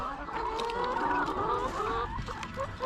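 Chickens clucking steadily and close by while eggs are being gathered at a home coop, a soft continuous run of hen calls with no talk over it.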